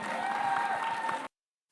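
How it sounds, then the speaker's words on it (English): A press meet audience claps for Yash, giving a short burst of close, dense applause that stops abruptly, followed by a moment of silence and then a brief return of sound. "So a big round of applause, ladies and gentlemen, for Yash."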